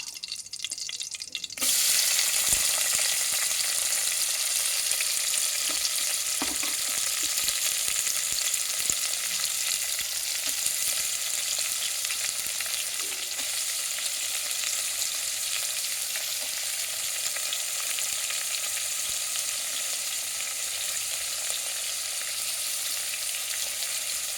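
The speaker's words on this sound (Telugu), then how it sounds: "ఇప్పుడు ఉల్లిపాయలు వేసుకుంటాం" Onions dropped into hot oil with whole garam masala (cloves, cinnamon, cardamom) in a pressure cooker burst into a loud, steady sizzle that holds for over twenty seconds, close by, with faint stirring knocks and no talk.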